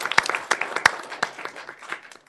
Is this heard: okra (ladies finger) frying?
no